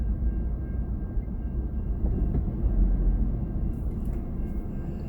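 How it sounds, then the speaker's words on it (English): A continuous low rumble of a train passing over a level crossing near Perth, steady and fairly loud, with a faint high whine on top and no talking. "we're stuck at the moment at the lights for this train going over"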